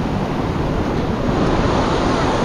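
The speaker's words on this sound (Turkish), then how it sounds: "dalgalı bir deniz." Rough, choppy sea surf washes onto a beach in Phuket during stormy weather, a loud continuous roar of breaking waves mixed with wind buffeting the microphone, with no clear talk over it.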